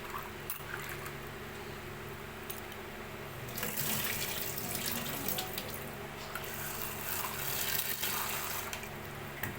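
Tap water runs and splashes while soaked chickpeas are rinsed in a kitchen, a steady close hiss that grows louder and busier partway through, alone without talk.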